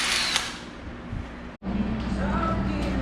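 A power drill boring out a bolt hole on a Jeep JL, a close, continuous grinding whir that cuts out briefly midway and then resumes, with faint talking underneath.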